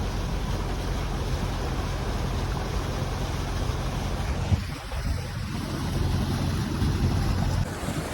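A ferry engine rumbles on steadily alongside rushing river water and heavy wind noise, loud and continuous throughout, on the way to Majuli.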